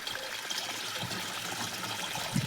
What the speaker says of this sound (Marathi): इथंच बोरचं पाणी घ्यायचं आहे, त्यानंतर परत ह्याच्यात टाकायचं आहे.